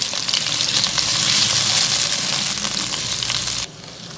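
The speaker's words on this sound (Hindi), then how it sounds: "इसको भी जस्ट लाइट गोल्डन होने तक फ्राई करेंगे।" Large peeled potato cubes fry in a pan, a loud continuous crackling sizzle close by that drops abruptly to a quieter hiss near the end; no one speaks.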